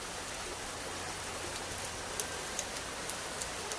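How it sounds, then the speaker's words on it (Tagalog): Dense, steady rainfall hisses evenly throughout, with a few faint ticking drips standing out near the end. "Grabe ang ulan"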